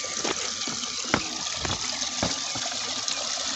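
Clean, cold water flowing outdoors in a forest makes a continuous rushing gurgle, with occasional sharper splashes and drips standing out against the steady stream.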